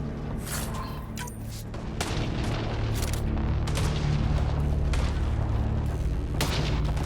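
Heavy, continuous weapon fire in the sci-fi shooter Mass Effect: Andromeda, with repeated booming shots and blasts layered over a dense combat din.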